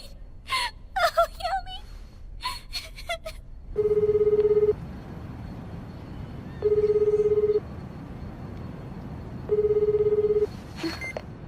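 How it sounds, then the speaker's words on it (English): A telephone rings unanswered in three spaced bursts, each tone held about a second, after a stretch of gasping, whimpering vocal sounds, with a low ambient hum underneath. "Why isn't Nori answering his phone"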